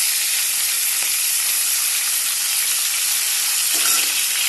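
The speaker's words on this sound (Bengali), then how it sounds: "মাছটা এখানে ভেজে নিচ্ছি" Fish frying in a pan gives a loud, steady, close sizzle that holds without pause, with a couple of faint utensil touches.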